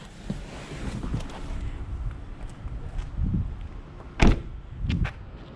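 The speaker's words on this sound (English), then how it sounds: "Open your door." A car door on a 2011 Toyota Prius hybrid being opened, with a sharp latch click followed by a soft swing and rustle, fairly close and alone over a low quiet background.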